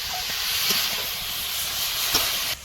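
Shrimp, spices and mixed vegetables (carrot, beetroot, beans and potato) hiss and sizzle steadily in a pan, a broad continuous fry noise with a few faint clinks, no talk.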